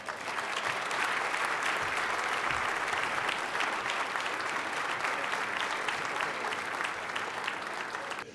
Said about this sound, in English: let's give a round of applause for Howard and the team at Eva's Village.